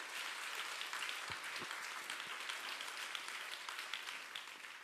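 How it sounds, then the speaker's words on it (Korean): A church congregation applauds during a Sunday service, a steady, fairly distant round of clapping that lasts several seconds without talk. "박수로 하나님께 영광 드리겠습니다."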